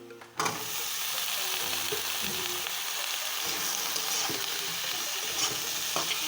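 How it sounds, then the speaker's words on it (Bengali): Food sizzling steadily in a hot pan, a continuous soft crackle with occasional stirring clatter, heard close and fairly quiet throughout, no voices. "তো আমি এগুলোকে ভালোভাবে ভেজে নেব।"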